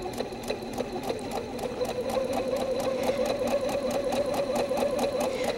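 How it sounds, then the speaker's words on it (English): A sewing machine stitches quilt fabric across a seam intersection, its rapid steady clatter and motor whir running close and continuous throughout. "And now we'll sew this intersection together."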